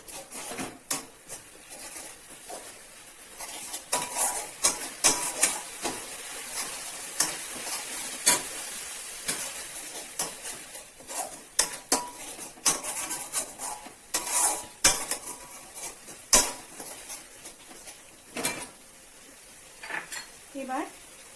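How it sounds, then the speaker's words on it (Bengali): Ginger paste and spice masala are sautéed in a pan, with repeated sharp scrapes and clinks of a spoon against metal over a soft sizzle, irregular and close. "এবার মশলাটাকে এবার কষিয়ে নেব।"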